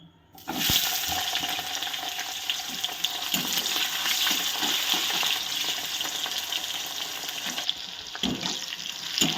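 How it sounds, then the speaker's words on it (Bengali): Pointed gourd (potol) pieces fry in oil for a Bengali mixed-vegetable labra. A dense, continuous hiss of sizzling runs for several seconds, close and steady, with occasional soft clinks of stirring. "এবার আমি ভেজে নেব পটলগুলো।"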